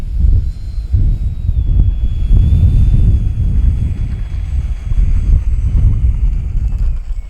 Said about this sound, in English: Kind of windy right now. It's actually very windy.